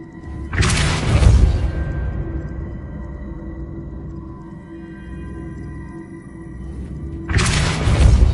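A Depulso force-push spell cast in a Harry Potter video game: two loud, rushing whooshes ending in booms, one near the start and one at the end, with a low rumbling ambience between.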